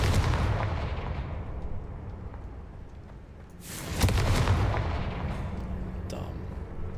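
A Confringo spell blast from the Hogwarts Legacy video game lands as a single sharp explosive boom midway, over a low rumbling game background, then fades into a decaying rumble.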